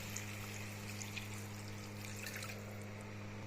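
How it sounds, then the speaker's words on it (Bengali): Water pours steadily and softly into a pan of potato, cauliflower and paneer curry, a continuous close trickling with a low hum beneath. "এখন জল দিয়ে দিচ্ছি"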